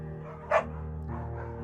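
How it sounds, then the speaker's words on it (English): Bucket the beagle gives a single short bark in Firewatch, sharp and close over a quiet, humming musical backdrop. "You pick up the beagle and she names him Bucket."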